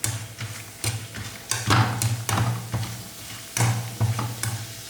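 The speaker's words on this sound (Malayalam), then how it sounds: "ഞാൻ ഇതിലോട്ട് ഒരു പിടി കൊണ്ടാട്ടോ ഇടുന്നത്. ഇനി നമുക്കിത് ഫ്രൈ ചെയ്തെടുക്കാം." Jackfruit fibre kondattam dropped by the handful into hot oil, giving a close, crackling sizzle with repeated sharp ticks and stirring clatters spaced irregularly through a few seconds, without speech.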